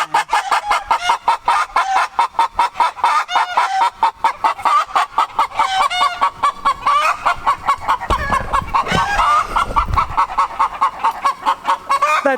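Hen clucking continuously in a rapid rhythm of repeated close, loud calls, with a brief deeper rustling burst partway through and no talking.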